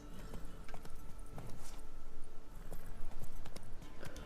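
Hooves of a horse in The Witcher 3: Wild Hunt clip-clop in a steady rhythm of distinct, fairly close hoofbeats over low background game ambience.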